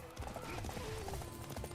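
A horse gallops in the video game Samurai Warriors 5, its hooves thudding in a quick rhythmic clip-clop under busy game sound, with a faint whinny.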